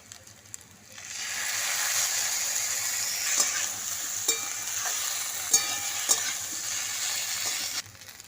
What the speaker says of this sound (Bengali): আদা বাটা দিয়ে ভালো করে মিশিয়ে নেবো সবজির সঙ্গে